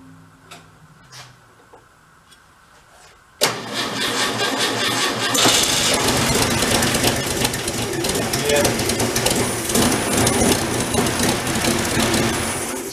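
A tractor engine with the choke pulled and a little throttle cranks and catches, then runs loud and steady with a rapid clattering idle, after quiet moments with a few small clicks.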